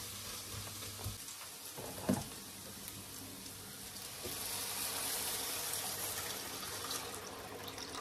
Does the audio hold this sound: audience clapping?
no